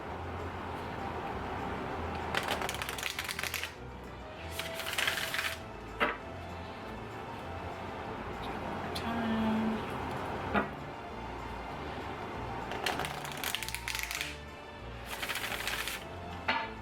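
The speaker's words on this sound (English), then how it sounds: "So they're pretty easy to shuffle how I like to shuffle them," Oracle cards with a silky matte finish being shuffled by hand in repeated papery bursts, close and fairly quiet, with soft tapping and handling noises between the shuffles and no talking.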